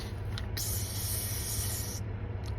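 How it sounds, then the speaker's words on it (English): Spray bottle of water squirted at a cat, one sustained hissing spray lasting about a second and a half, close and fairly loud, with short faint puffs before and after. "It's just water in a bottle."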